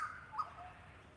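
Several birds call from a distance in open outdoor country in Australia, a few short chirping notes rising over a quiet, steady background.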